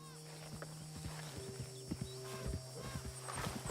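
Horse hooves clip-clopping and a whinny in the Red Dead Redemption 2 video game, irregular hoof thuds over a low ambient hum, with a neigh early on and faint talk in the background.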